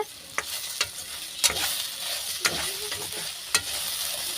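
Lady finger okra sizzles steadily in a hot pan while a spoon scrapes and stirs it in sharp strokes roughly every second, close up with no talking.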